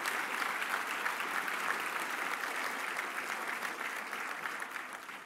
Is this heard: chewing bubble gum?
no